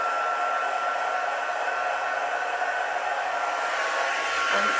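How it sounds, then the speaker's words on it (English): A heat gun melting silver embossing powder gives off a steady, loud, close whooshing roar. The blowing sound holds level for the whole stretch with no talk over it. "heating tool."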